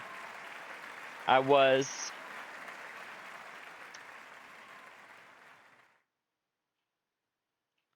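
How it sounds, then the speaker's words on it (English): Hand clapping sounds faintly under a steady room hiss, with a short burst of quick claps near the middle; a person speaks briefly. "I don't even know if my clapping is coming through over the mic"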